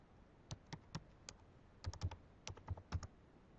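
Keys clatter on a computer keyboard as an email address and password are typed, in soft, close bursts of quick taps with brief pauses between them and no speech.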